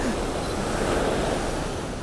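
Ocean surf at Pantai Indah beach in Bengkulu makes a steady, full roar of breaking waves with no pauses, heard up close with light wind.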